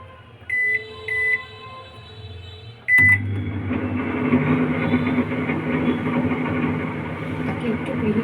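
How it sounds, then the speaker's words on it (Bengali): A household oven being preheated gives a few short electronic beeps, then a steady low hum as it runs, close by and alone. "একটু প্রিহিট করে নিচ্ছে।"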